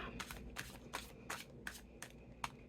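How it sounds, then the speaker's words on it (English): A tarot card deck is shuffled by hand, giving a soft, even series of papery riffles and snaps, about seven strokes in under three seconds, close and quiet with no talking. "I always like to go through the rest of my deck because I'm shuffling"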